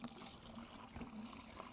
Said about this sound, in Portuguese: Abre essa torneira que está na base do filtro.